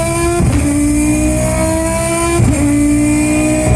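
A turbocharged five-rotor race car engine screams loudly at high revs, and each flat shift brings a brief dip and snap before the pitch climbs again, twice in quick succession.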